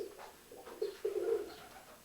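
A pigeon coos softly in several low, rolling phrases that swell and fade, faint and unaccompanied by any talk.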